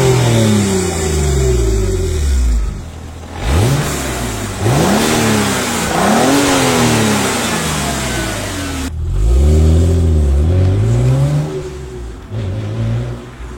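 A sports car of nearly 500 hp with a six-cylinder engine idles, then revs and accelerates in several rising, falling sweeps, loud and close with no talking.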